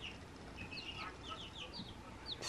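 Small flock of young chickens clucking and peeping nearby, a young rooster among birds just growing bigger feathers, with short high calls repeating over a steady noisy background.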